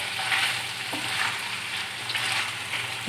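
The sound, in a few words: chicken boti frying on a tawa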